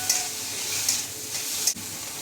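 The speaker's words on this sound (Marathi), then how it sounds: "आणि आता मी त्याच्यामध्ये ठेचा टाकत आहे, मिरचीचा, लसणाचा ठेचा टाकलेला आहे" Chili and garlic thecha frying in a pan with browned onion: a steady, close hiss of sizzling oil with soft stirring scrapes and a few brief spatula knocks.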